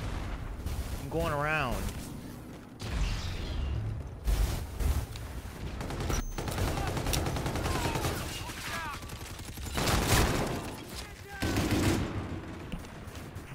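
Video game gunfire crackles in bursts through a team match, repeatedly overlapped and partly masked by a player talking throughout.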